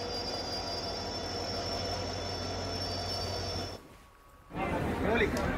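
The Aastha special train to Ayodhya at Jaipur Junction rolls through the station with a continuous metallic wheel squeal and rumble, loud and near, cutting out briefly before resuming among crowd noise.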